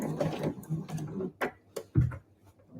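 A home sewing machine stitching a fabric eco bag, its mechanism whirring in short bursts with pauses and soft clicks between runs, close and moderately loud.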